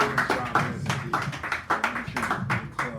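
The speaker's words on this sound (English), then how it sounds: "Give her a nice round of applause." A cafe poetry-hour audience claps for a poet, a steady patter of many hands close by that swells and pulses for about three seconds with no talking over it.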